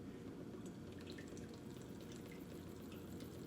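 Homemade ginger shot liquid strains through a strainer into a mason jar, a faint, steady trickle and patter of liquid with no talk.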